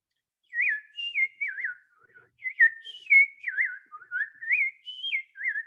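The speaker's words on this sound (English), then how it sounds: "another bird you're probably hearing right now, extremely early in the morning, right, is the American robin." An American robin sings alone, a clear series of short rising and falling whistled phrases in a steady, cheerful carolling rhythm, moderately close in otherwise quiet surroundings.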